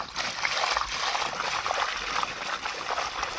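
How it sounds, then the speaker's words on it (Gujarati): Irrigation water flows steadily into a farm field, a continuous trickling, gurgling wash that stays at an even level throughout, with no talk. "પાણી આવી ગયું સરસ મજાનું"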